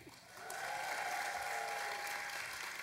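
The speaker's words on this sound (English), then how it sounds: "Golf clap." Audience applause at a Dragon*Con late-night comedy show, a soft, even patter of many hands that swells after a brief start and holds steady, somewhat distant, with faint voices underneath.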